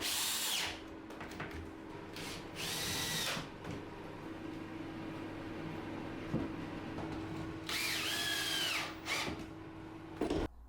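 A power drill drives screws into pallet wood during bar building, sounding in several loud bursts of whirring with short pauses between them and steady background hum, no voices.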